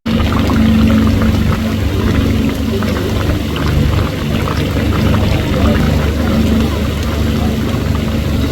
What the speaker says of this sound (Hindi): बारिश में सफारी कंटिन्यू करनी पड़ी